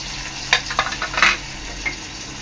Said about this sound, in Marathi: आता मी टाकते याच्यात कांदा, अद्रक लसूणची पेस्ट,